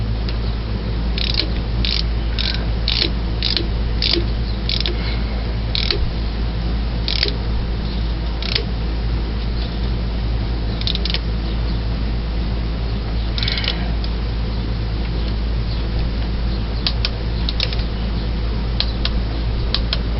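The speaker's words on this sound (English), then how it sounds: "I'm going to torque this one here to 18 foot-pounds now" A torque wrench ratchets as a bolt is tightened to 18 foot-pounds during timing chain work on a 1978 Continental Mark V's Ford 400 engine. Brisk clicks come in bursts over a steady low hum, with no talking.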